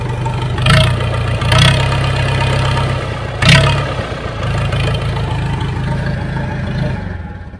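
Salvaged swamp tractor engine running on recycled cooking oil chugs steadily up close, loud and knocking, with a few sharp revving bursts before easing back to a rough idle.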